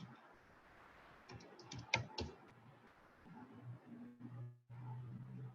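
Typing on a computer keyboard to enter a search, heard as a short, faint burst of clicks over a quiet room, with a low steady hum behind it.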